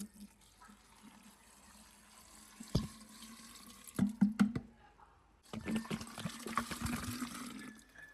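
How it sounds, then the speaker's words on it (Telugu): Water is poured from a tap into a pineapple and jaggery tepache mix, coming in two short splashing bursts separated by a quiet gap, the second longer and fuller, fairly close and moderately loud. "ఇందులో వాటర్ వేయాలి"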